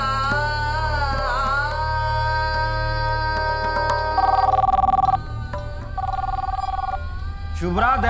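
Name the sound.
telephone ringing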